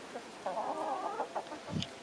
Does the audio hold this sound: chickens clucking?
yes